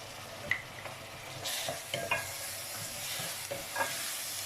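Chopped tomatoes tipped onto fried onions in a pan, with a burst of sizzle and repeated close scraping strokes of stirring over a continuous fry, no voices.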